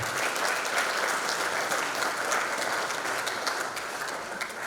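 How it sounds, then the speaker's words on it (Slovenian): Audience applause at a firefighters' day and solidarity day ceremony in Slovenske Konjice, a dense, even roll of many clapping hands filling the space, steady throughout and easing slightly toward the end. "Prosim še za en aplavz za vse skupaj."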